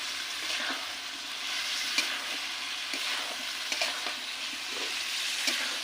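Fried potato and jackfruit cooked down with spices in a pan, giving a close, even sizzle broken by soft scraping stirs at irregular moments.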